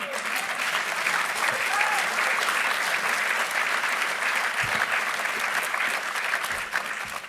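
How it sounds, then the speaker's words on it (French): An audience claps steadily and evenly for several seconds at an evening event of a psychiatry foundation, a dense sustained round of applause welcoming a guest onstage. "je vous demande d'applaudir et d'accueillir une journaliste"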